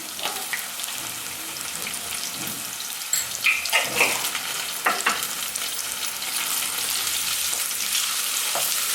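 Ginger garlic paste fries in a pan for biryani, a continuous close sizzle broken by scraping and clinking stirs with a spoon, growing denser toward the end, with no voices.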